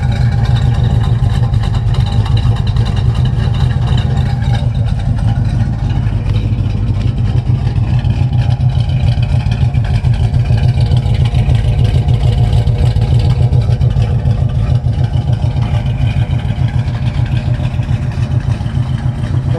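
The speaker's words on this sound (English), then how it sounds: "she's got a decent cam in it to give you that good sound" A 1968 Chevrolet C10 pickup with an aftermarket cam and a big stall converter runs steadily and loudly up close, its deep rumbling engine note continuous for the whole stretch, with no talking.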